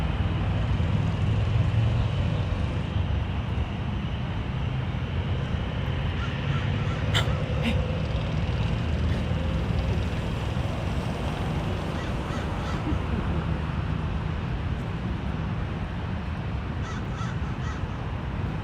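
A seagull calls out over the constant roar of a busy airport, its sharp cries rising briefly above the steady wash of traffic and jet noise, fairly distant and not loud.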